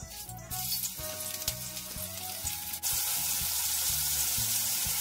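Pork belly frying in beer in a pan gives a steady, close, bright sizzle that grows louder partway through, with faint stirring and clinks of utensils underneath.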